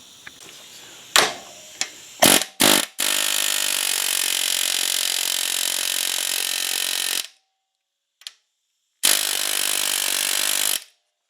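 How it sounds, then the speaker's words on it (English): A pneumatic air hammer driving out a ball joint on a Honda FourTrax 300 fires a few short bursts, then rattles continuously for several seconds, stops, and starts again briefly; loud and close. "now I'm going to take an air hammer, see if I can just push that thing out of there"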